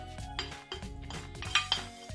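Ingredients for Lumpiang Shanghai pork spring rolls, including onion and grated carrots, are stirred in a bowl, with soft scraping and a few sharp utensil clinks against the dish, close and fairly quiet.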